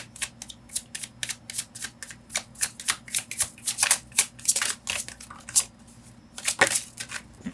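Tarot cards are shuffled by hand in a quiet room, a series of crisp riffling bursts and soft slaps repeating irregularly at close range, with no talking.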